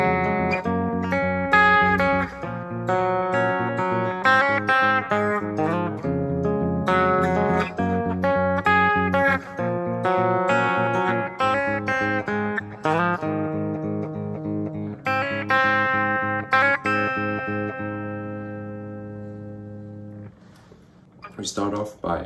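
Electric guitar plays the fast pre-chorus riff of a song at full tempo, a dense, steady run of loud picked chords and notes lasting about twenty seconds with a brief drop near the end.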